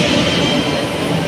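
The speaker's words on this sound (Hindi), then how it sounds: "यही जो ट्रेन है जो जिसमें जाने वाले हैं" A passenger train at an Indian railway station makes a loud, steady rumble with rolling wheel noise and faint squeal, heard close by with no speech over it.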